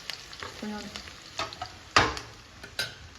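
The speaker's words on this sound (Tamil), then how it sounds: "இஞ்சி பூண்டு நானே வதக்குறேன்" Ginger and garlic sautéing in a pan, a soft hiss of frying broken by spoon scrapes and one sharp clank against the metal, with a brief hum of voice.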